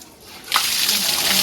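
Cold overnight tank water is poured during a bath, arriving as one sudden close splash and gushing rush after a short quiet moment.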